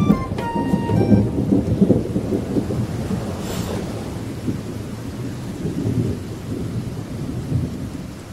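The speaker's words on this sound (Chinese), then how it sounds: "下这么大的雨，回去也不太方便" Heavy rain pours in a thunderstorm with a deep rumbling roll of thunder, a dense, loud, steady wash of rainfall that continues throughout.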